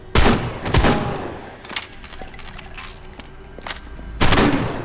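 Shotgun blasts in a first-person shooter, a stock weapon with a duct-taped flashlight: two loud shots close together at the start, softer reload clatter in between, then another heavy blast near the end.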